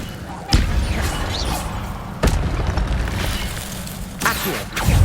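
Leviosa levitation spells cast in Hogwarts Legacy on PS5: three sharp, thumping magical impacts with low booms, separated by a couple of seconds, over a steady rumbling game backdrop.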